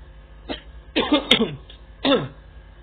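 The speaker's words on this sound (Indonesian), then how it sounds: "Aku udah mulai batuk lagi teman-teman, tapi sedikit ya" A few short, dry coughs close to the microphone, irregularly spaced with brief pauses between them.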